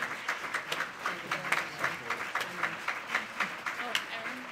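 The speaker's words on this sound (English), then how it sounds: "So let's give Erin a round of applause." Applause from the audience at a law school evidence competition awards ceremony, steady clapping of a small-to-medium crowd heard nearby, with voices talking faintly underneath.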